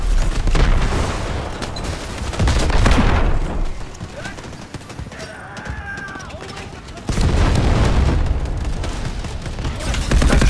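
Incoming artillery barrage in the Delta Force: Hawk Ops video game, heavy rumbling blasts and gunfire rolling in two loud waves with a quieter lull between, with a voice heard faintly over the battle.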